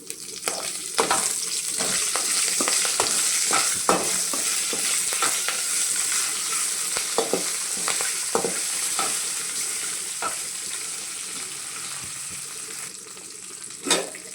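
Curry leaves hit hot oil in a frying pan while making tomato bath, a loud close crackling sizzle with scattered pops and stirring scrapes, steady throughout and free of talk.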